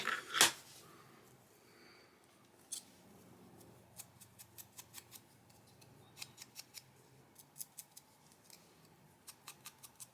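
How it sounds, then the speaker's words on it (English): Scissors snip paper for a junk journal collage, a run of crisp, quick cuts in small irregular bursts, close and fairly quiet, after a louder knock at the start and with no talking. "So I'm just going to cut it a little bit there"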